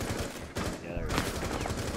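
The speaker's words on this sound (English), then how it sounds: "They're already shooting from up above." Gunfire in the video game Rainbow Six Siege, a short burst of rapid shots with a crack at about the midpoint, loud and continuous through the moment, with voices talking over it.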